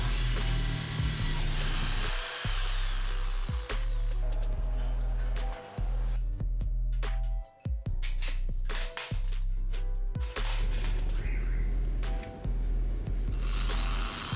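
A power drill bores holes into the metal of an old PC case for motherboard standoffs, loud whining bursts of drilling separated by short pauses and motor stops, with no speech.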